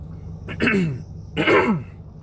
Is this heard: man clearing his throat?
yes